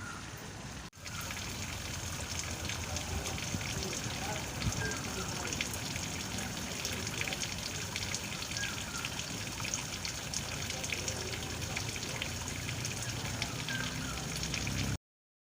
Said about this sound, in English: now I should change it back to the backwash position, and it will start doing its backwashing of the filter again